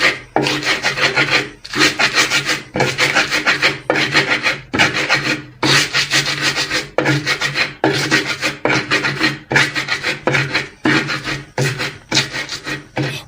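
Dried chili and salt are ground by hand for a yardlong bean mash, producing loud, close, rhythmic rasping strokes that repeat steadily about once a second with short pauses between them, and no talking.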